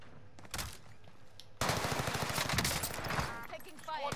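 Rapid automatic gunfire in the video game Warzone Rebirth, bursts of machine-gun shots that swell louder partway through, with a voice talking over parts of it.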